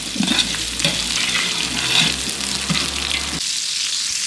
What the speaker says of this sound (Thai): กระเทียม ใส่ขิง ตะไคร้ รากผักชี จากนั้นก็ผัด